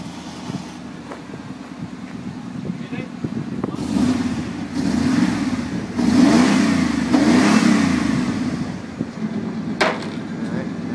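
A Chevy Suburban 350 V8 fitted with a Magnaflow muffler idles, then blips its throttle in several rising revs that swell and fall back, a deep throaty exhaust close by, with a sharp click near the end.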